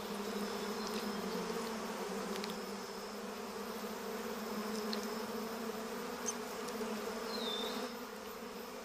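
Honey bees buzz in a steady, faint drone with occasional sharper passes of individual insects close by, continuous throughout with no voices.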